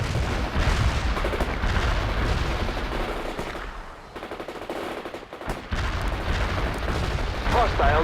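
Grenade launches and blasts in the World in Conflict war game, a dense barrage of gunfire and explosions rolling continuously under radio-style voice chatter, briefly thinning mid-way before surging loud again.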